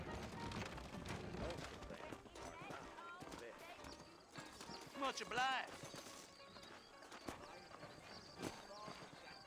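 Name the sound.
horse hooves clip-clopping in video game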